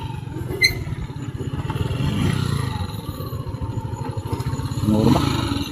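A motorcycle engine passes along a rural provincial road, its low rumble swelling and fading with faint voices and clatter in the background.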